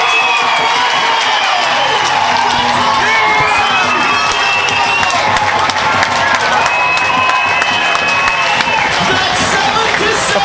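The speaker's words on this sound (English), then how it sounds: "The crowd has gone berserk here in the stands" A stadium crowd at a baseball game roars and cheers loudly and without a break after a game-tying hit, with shouting, clapping and excited voices blending into one dense wall of sound.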